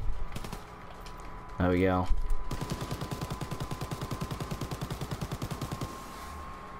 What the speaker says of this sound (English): Oh, actually, I can use this MG42.